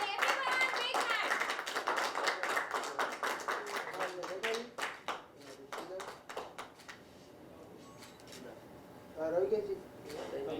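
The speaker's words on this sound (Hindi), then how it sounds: "Everyone, big hand." A crowd gives a big hand at a song launch event. Lively, close clapping runs for several seconds, then fades to scattered claps beneath ongoing chatter.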